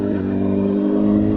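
A 2007 Honda CBR1000RR motorcycle engine runs at a steady, close, loud pitch, holding an even hum without rising revs for the whole stretch.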